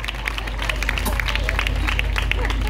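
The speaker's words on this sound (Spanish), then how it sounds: "Yo creo que es un fuerte aplauso a la señora que llega tarde porque viene coja" An audience at an unplugged concert breaks into steady applause, a dense continuous wash of clapping with crowd murmur mixed in, sustained and fairly loud throughout.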